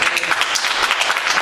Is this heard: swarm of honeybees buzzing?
no